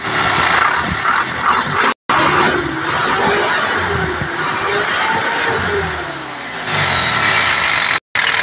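An Isuzu 4HF1 diesel engine runs loudly close by after a fuel pump replacement, revving up and easing back over a steady rough idle, with two brief sharp cutouts and no talking.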